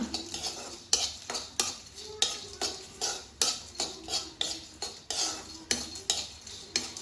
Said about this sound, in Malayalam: ചെമ്മീൻ വറുക്കാണ്